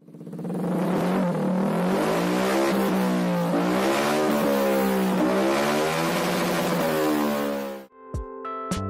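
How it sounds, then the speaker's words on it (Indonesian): A 150 cc faired motorcycle with a racing exhaust revs loudly and continuously up close, its raspy engine note rising and dipping for about eight seconds before cutting off abruptly. "Coba dengerin deh suara motor 150 cc pakai knalpot racing kayak gini."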